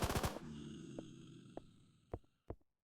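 Gunfire from the shooter Deadzone Aeon, a quick rapid burst of four close shots at the start followed by a humming tail and three or four fainter, spaced single reports.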